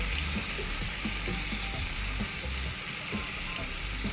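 Curry chicken frying in a pot on turned-down heat, a steady dense sizzle with soft stirring knocks, close and continuous throughout.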